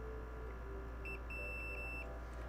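A continuity tester on a handheld console's ground pads gives a thin electronic beep, about one second long with a brief gap, over faint background hum during a retro modding session.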